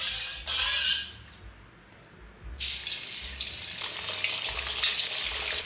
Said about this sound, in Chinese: 加适量的油进来，准备炸鱼。